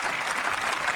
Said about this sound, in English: You might hear some applause there in the background.